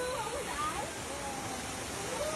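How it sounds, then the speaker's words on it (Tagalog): Balagbag Falls, a waterfall in Real, Quezon, heard as a steady broadband rushing hiss at moderate distance, with faint bird chirps over it. "Yan, guys, ang falls."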